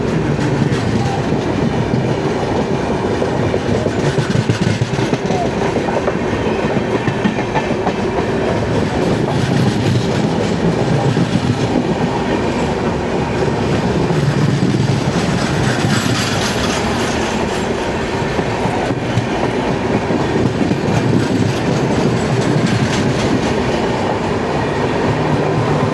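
Inside an AC 3-tier coach of the 12431 Rajdhani Express on the run, a loud, steady rolling rumble with rhythmic clickety-clack of wheels over rail joints and faint squeals, with no voices.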